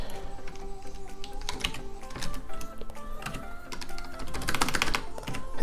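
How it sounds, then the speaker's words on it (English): Fast typing on a computer keyboard gives dense, irregular, close-up key clicks in quick bursts for several seconds, with no voice. "So I'm just going to type in template."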